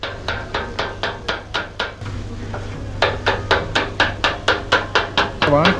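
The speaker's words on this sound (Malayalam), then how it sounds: "കൊത്തു പൊറോട്ട പ്രിപ്പയറിംഗ് ആണ് വെയിറ്റ് ചെയ്യും" Kothu parotta being chopped on a hot griddle with metal blades: fast, evenly spaced metallic clacks, close and fairly loud, with a brief pause near the two-second mark before the rhythm starts again.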